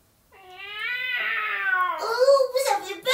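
Cats meow in drawn-out, rising and falling cries, loud and close, with a voice likely imitating them during a storytelling session for young children.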